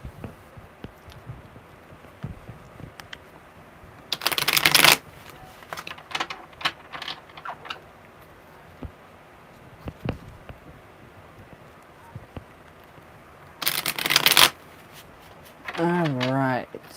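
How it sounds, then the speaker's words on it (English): A deck of tarot cards being shuffled at a reading, two short loud riffling bursts separated by quieter scattered card taps and handling noises, with a brief voice at the end. "Good shuffles. I love good shuffles."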